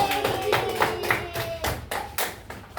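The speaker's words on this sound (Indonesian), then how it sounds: "Ya, tepuk tangan dulu untuk WOW." Students in a classroom clap together, a short run of sharp, irregular hand claps at moderate level with faint voices mixed in, lasting under three seconds.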